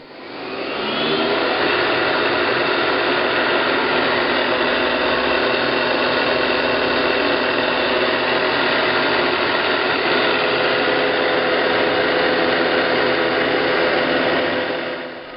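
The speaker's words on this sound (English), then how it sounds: "Here we're increasing the RPM in the spindle to 5000 RPM." Atrump 3VK Inverter-DC CNC vertical mill spindle spinning up to 5000 RPM, a loud steady high whine that holds evenly from start to finish, close and alone.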